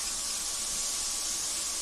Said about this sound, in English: We're just going to put these 2 items together just long enough for them to saute and become translucent.